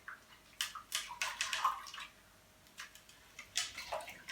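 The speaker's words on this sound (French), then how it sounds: "Je rince à l'eau fraîche" Cool water splashes in intermittent bursts as hands rinse a face after removing makeup with jojoba oil, the close, soft sloshing and dripping coming in short clusters separated by brief pauses.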